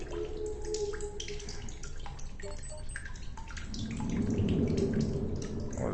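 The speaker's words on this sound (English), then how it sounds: "Oh, this is water." Water running and dripping in the sci-fi survival game The Solus Project, soft scattered drips and trickling that swell into a fuller splashing flow near the end, faint and alone without speech.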